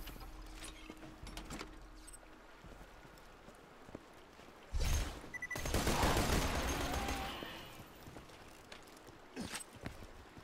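Rapid automatic gunfire bursts from a weapon emptying its magazine in the video game Borderlands 2, a loud dense volley in the middle with a few shorter bursts and shots before and after.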